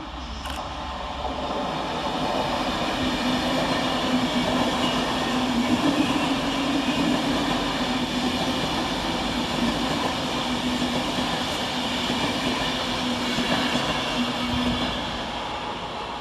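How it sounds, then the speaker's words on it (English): Avanti West Coast electric train 390044 runs through Cheadle Hulme station, a sustained rumbling rush of wheels and motors with a steady hum, rising in and easing away over sixteen seconds, no voices. "Next up for Avanti West Coast is 390044, working 1 Alpha 18 from Manchester Piccadilly to London Euston via"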